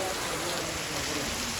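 Heavy rain pours down steadily, a dense, even hiss of water with no breaks, loud and close, completely filling the short moment.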